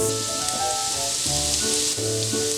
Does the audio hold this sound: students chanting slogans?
no